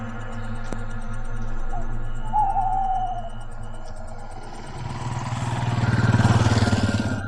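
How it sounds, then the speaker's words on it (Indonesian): A motorcycle passes by outdoors in Indonesia, its engine drone building from a distance, with a low buzzing rumble growing louder toward the end over steady ambient hum. "ada motor lewat"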